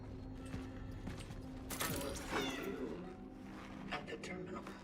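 A cat meows in the horror game Cronos: The New Dawn, a short mid-pitched call heard under game ambience and a person's voice, which also calls out to it.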